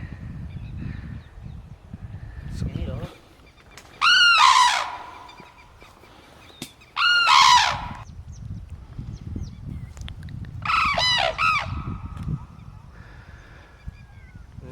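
Large birds calling in an open wetland beside a forest, where cranes gather among herons, give three loud bursts of harsh, honking cries, each lasting about a second, with fainter calls scattered between them over a steady outdoor background.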